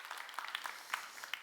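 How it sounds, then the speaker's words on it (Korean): A small church congregation at Gunsan Seonggwang Church claps during a weekday dawn Psalms service, giving scattered, quiet, uneven hand claps that rise and fall briefly without voices over them. "박수 한번 해주셔요"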